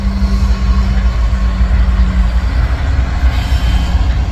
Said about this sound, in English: if we follow this freight train